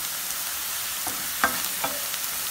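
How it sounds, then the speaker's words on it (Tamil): Onions sauté in a pan, a close, even sizzling hiss with a couple of brief stirring scrapes. "பாருங்க நல்லா வதங்கிருச்சு வெங்காயம்"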